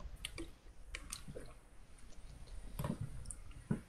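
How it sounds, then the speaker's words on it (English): Someone gulps water close to a podcast microphone, making a few faint, wet swallowing and squishing sounds with short pauses between them in a quiet room. "I love hearing your gulps of water"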